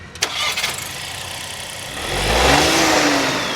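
A Skoda Kushaq facelift with a 1.0-litre three-cylinder engine and 8-speed automatic starts with a sharp crank, then settles and swells into a smooth rising hum as it pulls away, with no talk over it.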